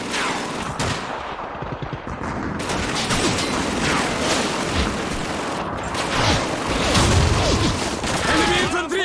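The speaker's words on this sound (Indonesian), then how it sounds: "It's an MG-42!" Sustained bursts of MG-42 machine gun fire in the World War II shooter Call of Duty 2, loud and continuous with scattered shots and explosions layered through the battle, voices occasionally heard underneath.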